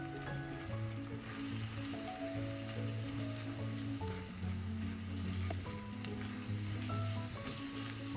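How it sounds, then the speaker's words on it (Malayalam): Spice powders (coriander, pepper and garam masala) roast in hot oil for a homestyle crab curry, giving a soft, continuous sizzle and faint stirring, with a tonal hum running underneath and no voices. "ഇത്രയും പൊടികൾ ഈ ഓയിലൊന്ന് മൂപ്പിച്ചെടുക്കാം"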